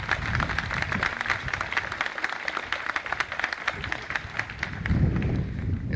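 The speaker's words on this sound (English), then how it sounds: "let's give all these people a round of applause" An audience at a 1979 Law Day event gives a round of applause, a dense, steady patter of many hands clapping that lasts the full six seconds at moderate loudness.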